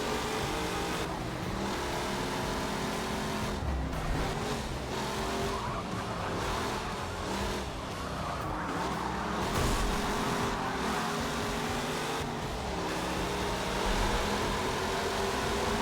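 A race car's engine roars continuously in Forza Motorsport, its revs rising and falling through gear changes with tire squeal mixed in, loud and unbroken throughout without any speech.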